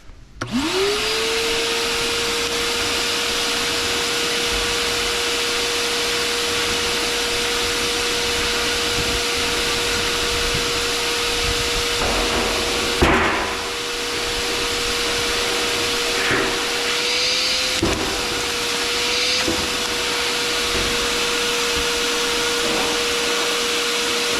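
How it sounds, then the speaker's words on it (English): A vacuum cleaner starts up and runs steadily with a constant whine, occasional rattles and clunks as the nozzle knocks against the metal bars of a parrot's cage. "The next step is going to be to vacuum out the cage"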